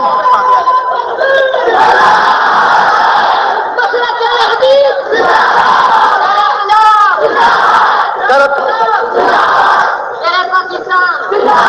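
A large crowd at a religious gathering shouts slogans in loud rhythmic bursts, massed voices rising and falling in repeated chants with brief dips between them.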